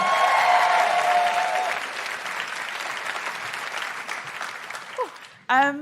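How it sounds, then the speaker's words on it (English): A live audience at a Canberra event bursts into loud applause that fades gradually over several seconds, with voices talking over the tail and a short laugh or exclamation near the end. "Big round of applause for Kathy."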